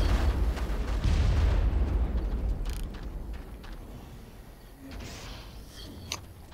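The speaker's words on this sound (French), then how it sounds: "Je vais essayer de bombarder quelques grenades" Explosions go off in the Far Cry video game while grenades are thrown in a marsh level, a loud booming burst up front followed by a long rumbling decay and a few smaller pops later on.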